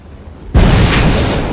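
A grenade explodes in the video game Fable 3, a sudden loud boom that stays as a sustained roaring blast with no speech.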